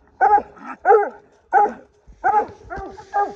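A coonhound puppy barks six times in short, evenly spaced yips and bow-wows, close and clear against quiet surroundings.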